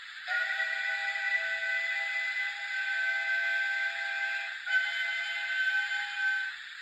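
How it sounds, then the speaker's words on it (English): Steady, shrill, tonal steam whistle effect from a Hornby R9361M Playtrains Steam Goods Express toy train, sounding nearly seven seconds with a brief dip partway, clear and alone. "It's a whistle."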